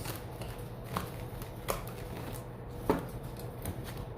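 Tarot cards shuffled by hand, a soft continuous papery rustle with a few sharper riffle snaps spaced about a second apart, close and quiet, with no talk.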